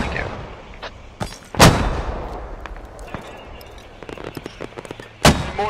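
Booming mortar impacts and scattered gunfire ring out across a large-scale battle in the video game Squad, several heavy explosions spaced irregularly amid lighter distant shots.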